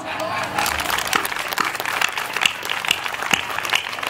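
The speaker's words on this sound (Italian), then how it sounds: "vi chiedo veramente con il cuore un grosso applauso per Ottorino Trigo" A crowd at a community group's thank-you gathering in Chions claps for a member, giving a moderate, fairly steady applause with a few louder individual claps popping out near the end, while a voice talks over it.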